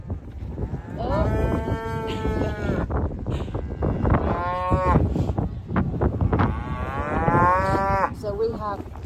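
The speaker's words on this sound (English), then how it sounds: "we have beef shorthorn and link cattle" Beef Shorthorn and Luing cattle on an icy Penhill hillside low repeatedly, several long drawn-out moos from nearby animals overlapping one another with short gaps between calls, over a constant rough background of wind.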